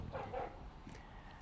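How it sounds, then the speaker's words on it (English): Pursuing dogs bark in short bursts, a few clustered yelps from some distance away over an outdoor background, with no one talking. "Smart dogs, I tell you, smart dogs."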